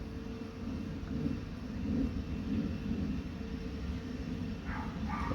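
A Fimi X8 SE 2020 drone in flight on its first outing gives a steady, broad motor hum and rotor whir that holds throughout, moderately loud and with no speech.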